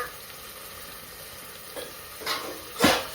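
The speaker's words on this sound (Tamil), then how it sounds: "கொஞ்ச நேரம் வெங்காயத்தை வதக்கணும்" Onions sauté in oil for chicken biryani, a low steady sizzle building to a couple of louder stirring swooshes in the last second.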